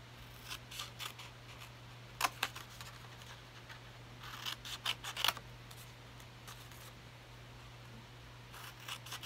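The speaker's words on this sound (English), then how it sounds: "We're going to take our scissors and we're going to cut the square section out here." Scissors cutting a square section out of paper or cardstock for a craft project, with a series of soft snips and crisp rustles in short clusters over a low steady hum, close and quiet, no talking.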